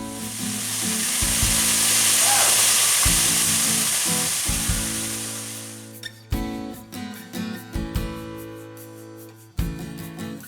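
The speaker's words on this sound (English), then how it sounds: "the peppers and onions are just about ready to come out of this pan, and we'll start the rest of the patties over here" Peppers and onions sizzle loudly in a frying pan as a dense, steady hiss for about six seconds, then the frying drops away and choppy musical tones take over.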